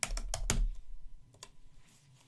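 Typing on a computer keyboard while entering a MATLAB command: a quick cluster of four or five sharp key clacks, then a pause and a couple of lighter taps, close by with no voices.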